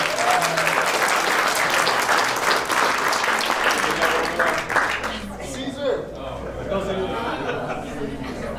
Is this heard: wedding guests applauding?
yes